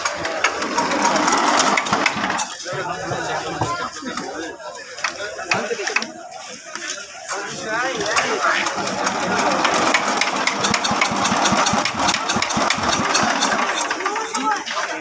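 A small engine runs with a rough, rattling chug, steady and close, while people talk over it.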